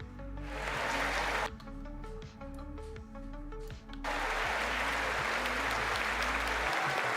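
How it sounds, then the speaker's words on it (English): Applause sound effect played during video editing of a PGA Tour 2K25 golf game: a crowd claps steadily, dips into scattered individual claps for a few seconds, then swells back to full, dense clapping, fairly quiet overall. "It might not be the right applause track, but I'll do it anyway."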